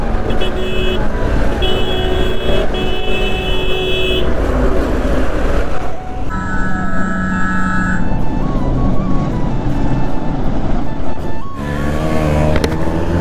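A TVS Apache RS200 motorcycle rumbles and burbles in traffic, passing other vehicles. Horns toot intermittently and a rider talks over the engine noise.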